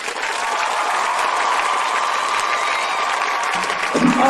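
Vigorous audience clapping at an RCM business event, even and sustained for several seconds, with a faint voice emerging at the close.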